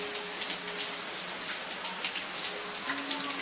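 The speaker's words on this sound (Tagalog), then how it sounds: "It's raining." Steady rain falling outdoors in Anda, Bohol, a dense, even patter of drops close by that continues without a break for the whole few seconds, with no talk.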